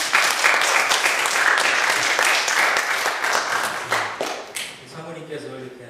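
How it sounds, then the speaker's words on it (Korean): A church congregation applauds to welcome a visiting missionary's wife, steady dense clapping filling the room before thinning out near the end as a voice begins speaking. "우리 박수로 한번 환영하겠습니다."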